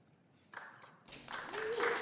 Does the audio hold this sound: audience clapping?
yes